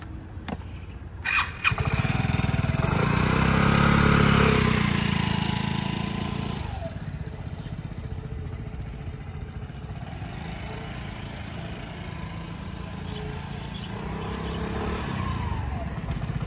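A scooter engine starts and pulls away with a broad rising drone, then settles into a steady running hum as it slows to a stop on the rear brake alone, heard close with no talking.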